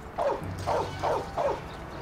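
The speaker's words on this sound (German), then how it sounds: "Und, oh Gott, Hunde" Four barks from a dog in Mafia 1, evenly spaced about half a second apart at moderate loudness, with a low background hum of game ambience beneath them.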